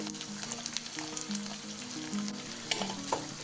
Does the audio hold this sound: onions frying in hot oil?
yes